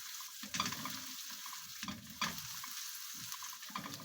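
Spaghetti sauce with ground pepper is stirred in a pan, a steady soft sizzle broken by a few scraping strokes of the spoon, close by with no talking.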